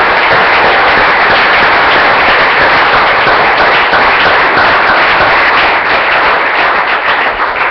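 Sustained applause from a church congregation during a Spanish-language sermon, a dense, even wash of many clapping hands, loud and steady throughout with no pauses.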